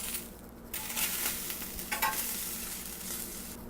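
A slice of onion sautés in a black iron pan, a steady close sizzle with scraping and stirring bursts from a spatula, and no voices throughout.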